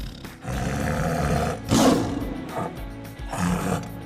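A lion roar sound effect played for a toy lion head: a deep, rough roar that swells twice over a few seconds, loud and close with no talk over it.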